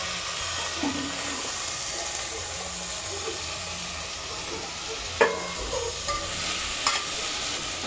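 Green onion and pigeon peas frying in a pan: a constant loud sizzle and hiss with occasional stirring scrapes and clinks, no voices heard.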